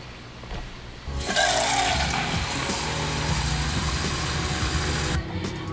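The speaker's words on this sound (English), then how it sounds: "We're just going to use the tomato tin to fill up the water." Water from a tomato tin pours into a cooking pot in a home kitchen, a loud, continuous rushing splash that runs for about four seconds before tapering off.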